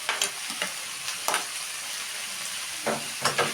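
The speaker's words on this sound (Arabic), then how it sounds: "هنشوح معاها البصل كده، وبعد كده هننزل بالفلفل" Sliced onions and peppers sauté in a hot pan for chicken shawarma, a steady sizzling hiss broken by a few sharp scraping stirs of the utensil, close by and with no voices.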